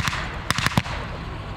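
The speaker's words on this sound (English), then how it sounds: "There's another 76mm shot." An M18 Hellcat tank destroyer firing its 76mm gun during a WWII encampment tactical demonstration: a few sharp, distant bangs clustered within a split second, over steady outdoor background noise.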